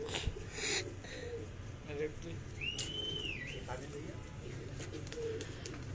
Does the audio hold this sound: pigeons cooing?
yes